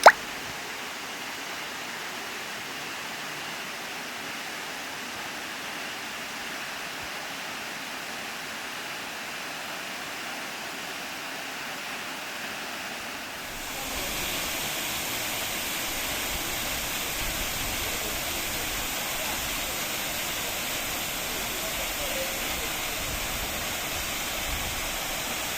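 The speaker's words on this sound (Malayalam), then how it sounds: "ഇതാണ് നമ്മുടെ ആലിങ്കൽ വാട്ടർഫോൾസ്" Alingal waterfall in Palakkad, Kerala roars as a steady broadband rush of falling water, growing louder and closer partway through, with no talk.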